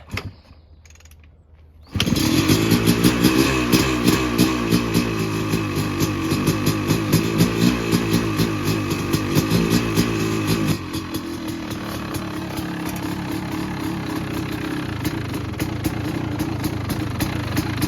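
A 2002 KTM 250sx two-stroke dirt bike, cold and reluctant to run, fires after a brief quiet start and runs loud and close with a rapid buzzing rhythm, then settles into a steadier, slightly lower idle.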